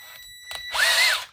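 A power drill spins a homemade string winder on a cigar box guitar, a short whirring burst that rises, holds steady for about half a second and drops away, after a couple of faint clicks.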